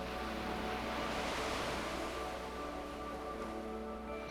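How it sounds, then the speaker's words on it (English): Ocean waves wash and collide in a continuous broad rushing surf, a swell rising in the first half and easing after, with no voices. "Just notice the sounds that the waves make when they hit against each other."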